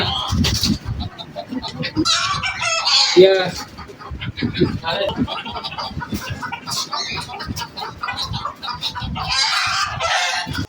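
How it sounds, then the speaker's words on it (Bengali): Hens cluck busily and a rooster crows nearby on a farm, with people talking and moving around amid the flock. "খামারে গিয়ে দেখতে পেলাম অনেক সুন্দর সুন্দর কিছু মোরগ এবং"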